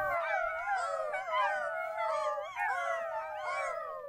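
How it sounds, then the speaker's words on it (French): Several dogs sound off together in overlapping high whines and howling yelps, a close, continuous chorus of distressed cries that rises and falls in waves. "Les pauvres chiens aboyèrent et couinèrent de douleur."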